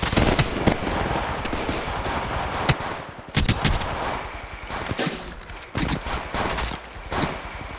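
Rapid automatic gunfire in Apex Legends Mobile on Android, loud close bursts of shots with brief pauses between volleys, alongside other weapon and impact sounds.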